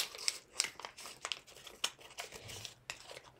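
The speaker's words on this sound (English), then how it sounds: "So you're basically going to fold, flatten it." Paper being folded and flattened for an origami flapping bird, with quick crinkles and crisp creasing swipes in irregular bursts, close and fairly quiet.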